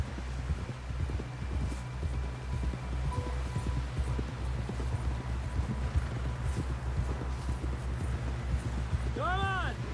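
Horse hooves clip-clop and gallop in Red Dead Redemption, a steady drumming rhythm carried under continuous low rumbling, with characters talking over it and a brief horse whinny near the end.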